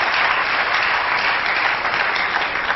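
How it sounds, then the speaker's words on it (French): A church congregation applauding, loud, dense and sustained clapping from many hands that fills the whole stretch without pause or voices. "Acclamez pour lui."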